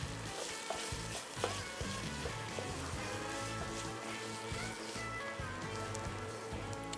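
Chopped vegetables for Texas chili sizzle loudly in a hot pot as tomato paste is stirred through them, a dense continuous hiss with occasional scrapes of the spoon.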